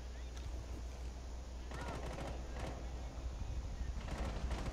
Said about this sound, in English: I think it's mostly Narojima shooting outside windows